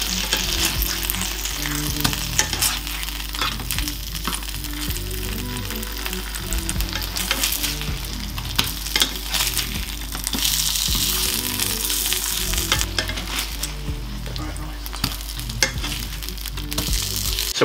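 Vegan ribs fry in a pan over medium-low heat as they are turned. A loud, steady sizzle crackles with scattered sharp pops and clicks, and no one speaks.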